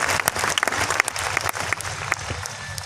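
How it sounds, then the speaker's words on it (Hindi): Audience applause at a village gathering, a crowd clapping steadily and fairly loudly throughout, dense and continuous with sharp individual claps standing out. "शायद तो आप ताली बजा रहे दोस्तों"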